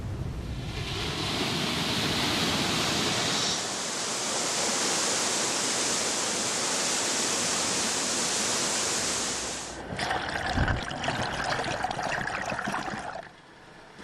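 At a flash flood exhibit, thousands of gallons of water gush out in a loud, steady roar. The roar holds for about ten seconds, then breaks into a rougher, churning rush.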